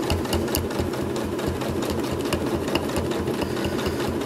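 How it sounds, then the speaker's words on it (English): A sewing machine stitching quilt ruler work, a steady fast mechanical chatter with rapid needle clatter, moderately close and continuous without talk. "I'm going to finish up stitching around the outside of this ruler work"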